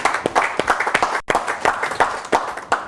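A church congregation clapping together in quick, uneven bursts of applause, loud and close, with a brief break midway before the clapping resumes.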